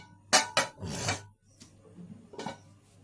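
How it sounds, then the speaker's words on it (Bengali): A lid is set over a pot of fish curry with ridge gourd and potato, giving a few close metallic scrapes and clinks followed by a softer rattle. "তারপরে আমি ঢাকা দিয়ে দেব।"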